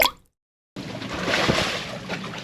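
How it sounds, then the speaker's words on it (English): A person jumps from a sailboat into the sea on a hot, windy day: a short sound, then a gap, then a sustained splash and watery rush close by. "He's jumping in."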